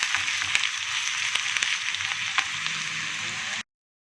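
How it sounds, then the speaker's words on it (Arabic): Onions frying in fat in a pan: a bright, continuous close sizzle with a few sharp ticks and pops, cutting off abruptly near the end. "كنت انا جهزت طاسه وفيها الماده الدهنيه اللي انت عايزه تحطيها وعليها البصل، هحمره بقى كده شويه"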